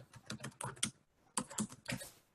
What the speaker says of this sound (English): I'll type it in